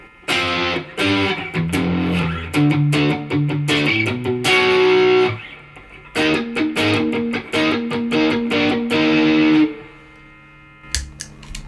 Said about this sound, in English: Sometimes there's a couple heavier distortion tones